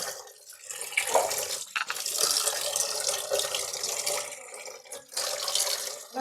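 Tap water runs over chopped raw tapioca (kappa) in a vessel, a continuous close hiss and splash with a few brief breaks as the pieces are rinsed.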